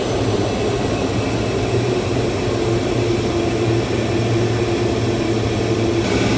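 An aircraft engine ticks over at low idle in a hangar with the air conditioning switched off, a loud, steady droning hum that holds unchanged throughout with no talk.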